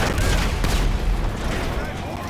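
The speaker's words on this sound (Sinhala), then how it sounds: "මේ වෙඩි යනවා" Gunfire in GTA 5 during a jet theft mission, dense continuous rumbling bursts of shots and booms, loud and unbroken throughout.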